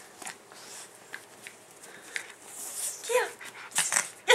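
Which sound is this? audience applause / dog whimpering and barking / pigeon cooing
dog whimpering and barking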